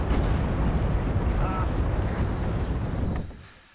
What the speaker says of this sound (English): And the mortars are coming down